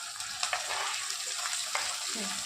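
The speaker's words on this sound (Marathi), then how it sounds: "एक सात आठ हिरव्या मिरच्या एक पाच मिनटं परतून घेणार" Green chillies sauté in a pan of reddened onion and tomato for a vegetable curry, giving a continuous close frying hiss with brief crackling spurts, and no speech.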